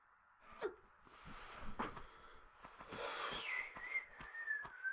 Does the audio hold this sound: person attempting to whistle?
yes